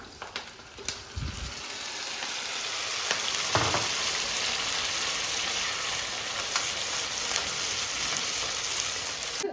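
Tomatoes sizzle steadily in a hot pan, a constant crackling hiss with a couple of thumps as something is dropped in and stirred.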